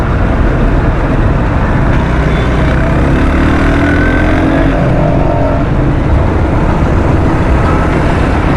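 Motorcycles riding past on a road, heard as a loud, steady rumble of engines and traffic that continues throughout, with no clear individual pass-by standing out.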